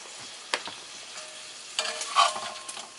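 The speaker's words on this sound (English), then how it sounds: "Got the sausage frying already." Sausage sizzling in a cast iron skillet for breakfast burritos, a steady soft crackle with a few sharper pops and a brief scrape of stirring, close and fairly quiet, with no talking.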